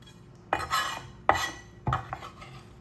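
Knife cutting the rind off a melon for fruit salad, heard as three separate scraping strokes, each sharp at the start and fading, close and fairly quiet with no talk.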